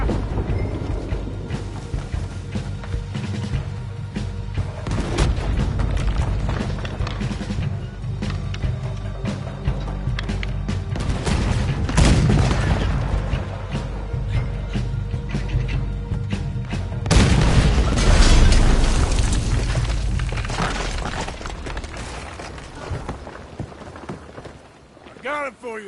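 Cannon fire and explosions in a ship battle in Red Dead Redemption 2, heavy booms and rumbling blasts recurring over continuous action noise, with characters talking throughout.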